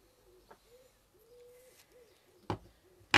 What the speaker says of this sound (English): You hear the wood pigeons?